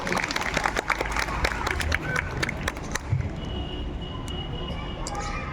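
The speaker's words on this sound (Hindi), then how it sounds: "तो एक बार भगवान के लिए तालियां बज जानी चाहिए" An audience at a diet and health camp in Surat claps in a dense burst for about three seconds, then the clapping thins and fades under room murmur.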